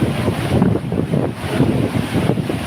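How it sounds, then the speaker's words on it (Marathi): Water flowing through Puluj dam, a steady rushing wash with wind buffeting the microphone throughout, loud and continuous with no speech. "प्रवाह पाण्याचा पहा"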